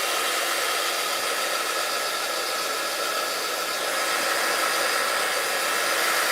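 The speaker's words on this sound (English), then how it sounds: "I'm just going to give it a quick blast with the heat, because that hot shot's like rubbed up some of the glue." A heat tool blows hot air over glue on a sari silk journal cover, making a loud, continuous, hissing whoosh that holds steady throughout, close to the listener, with no one talking.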